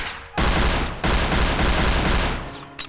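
Video game gunfire: a loud, close burst of rapid shots cuts in, breaks off briefly, then resumes in a sustained volley before stopping.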